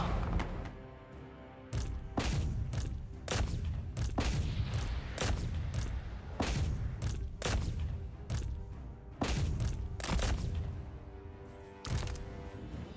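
Volleys of gunfire ring out in Total War Warhammer 3, sharp shots cracking in rapid, irregular bursts over a steady battle din for the full stretch.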